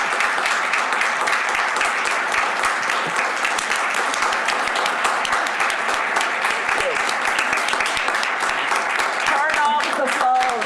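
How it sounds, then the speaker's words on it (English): A room of board meeting attendees applauds their general manager, a steady, full wash of clapping holding for about ten seconds with voices murmuring beneath, tapering slightly near the end. "Let's stop and give a round of applause to our general manager."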